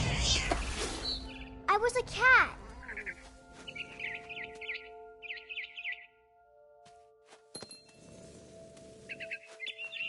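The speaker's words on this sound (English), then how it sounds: "Then I heard chirping outside my window. It was a barn swallow going back to her nest." Barn swallow chirps come from outside a window in the video game What Remains of Edith Finch. Short bursts of bright chirping repeat in small clusters after a brief spoken line, with a low hum underneath.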